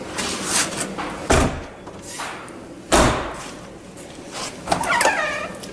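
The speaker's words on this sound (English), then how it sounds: "Make sure it doesn't lock before you shut these doors." Storage compartment doors on a 2017 Berkshire 34 QS motorhome slam shut, two solid thuds about a second and a half apart, then a lighter clatter near the end, with background hum and rustle.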